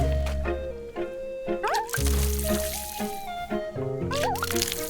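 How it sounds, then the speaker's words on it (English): Watering a plant in the cozy video game Wanderstop, with soft repeated drips and liquid squishes over gentle background music, lasting several seconds. "So we're to water it again."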